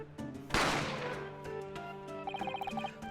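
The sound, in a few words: gunshot sound effect in The Great Ace Attorney Chronicles video game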